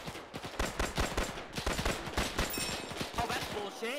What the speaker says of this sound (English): I shot him right there.